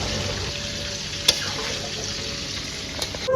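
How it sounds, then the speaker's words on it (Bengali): Meat and potatoes fry in a pan with a steady soft sizzle throughout, broken by a couple of brief utensil clicks and a short scrape near the end. "মাংস ভাজা হয়ে গেছে তারপরে আলুগুলো ভাজে"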